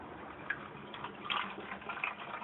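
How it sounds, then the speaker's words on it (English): Distilled water poured from the bottle supplied with the kit into the reservoir of a custom PC liquid cooling system, a soft, steady trickle and splash with a few small drips, quiet and close. "Now I'm going to go ahead and put some water in here"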